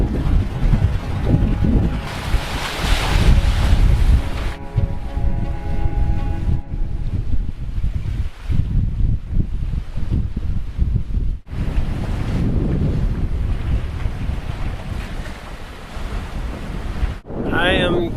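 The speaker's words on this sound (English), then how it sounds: "there's some pretty substantial swells coming around there" Ocean swells and waves break and wash around a sailboat in the British Virgin Islands, loud and continuous with heavy wind buffeting the microphone, surging in several bursts over eighteen seconds.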